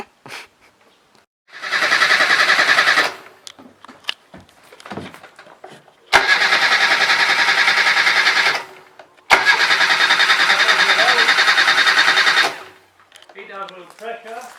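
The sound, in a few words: Asquith van engine starting after a year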